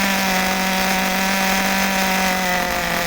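An HPI Super Nitro RS4 Alfa Romeo RC car's small nitro engine runs rich and loud after an idle screw adjustment, a close, steady high-pitched buzzing whine holding constant throughout the short stretch.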